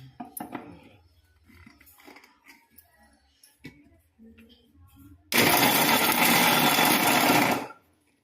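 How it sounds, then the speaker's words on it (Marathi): A mixer grinder whirs loudly for about two seconds as it blends thinly sliced ingredients for ukadiche modak, following quieter kitchen clatter and someone talking beforehand, then cuts off abruptly. "आता मी मिक्सरमध्ये टाकून फिरून दाखवते तुम्हाला."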